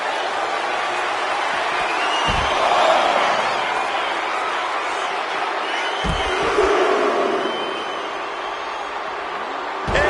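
A wrestling video game arena crowd roars and cheers continuously throughout, a dense, loud wall of noise with a few swells, and a commentator's voice is faintly mixed in.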